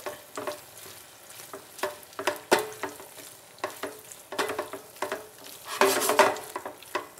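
Pre-cooked beef and its juices stirred into tomato and onion in a pot for a Guinness beef stew: soft sizzling with irregular scrapes and clinks of a spoon against the pot, no talking.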